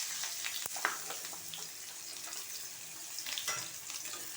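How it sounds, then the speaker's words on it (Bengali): Onions frying in hot oil in a home kitchen pan: a continuous, fairly close crackling sizzle with a brief sharp knock early on, no one speaking. "পেঁয়াজটা ভাজতে থাকি,"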